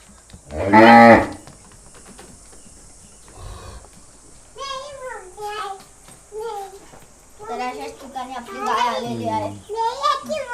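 A loud, low cow moo sounds near the start as a calf is released in a Konkan village, followed by quieter lowing and several voices, including a child's, talking nearby.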